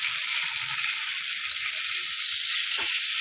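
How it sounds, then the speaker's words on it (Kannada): Hot oil on a tawa hisses in a loud, steady sizzle for tawa-frying Bangada fish, a continuous bright crackle with a faint low tap near the end. "ತವ ಫ್ರೈ ಮಾಡ್ತಾ ಇದ್ದೀನಿ, ಸ್ವಲ್ಪ ಆಯಿಲ್ ಹಾಕ್ತೀನಿ, ಆಯಿಲ್ ಬಿಸಿಯಾಗಲಿ"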